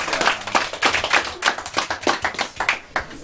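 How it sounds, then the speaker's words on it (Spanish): Children applaud at a Wichí school in Formosa, a steady run of close, crisp hand claps that continues for about three seconds without speech. "le damos un aplauso a los chicos entonces."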